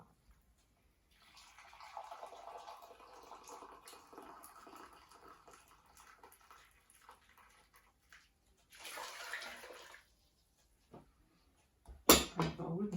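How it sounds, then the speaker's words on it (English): Two pints of boiling water poured from a jug over sugar, a soft continuous splashing pour lasting several seconds, then a short louder gush and some close clattering at the end. "Pour it over the sugar."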